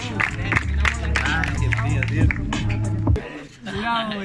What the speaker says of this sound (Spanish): Bueno, aplauso